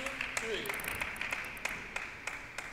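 A crowd cheers at a college table tennis team final. The cheering comes from farther off and sits low and steady, with sharp claps and ball clicks popping out now and then over a soft hum.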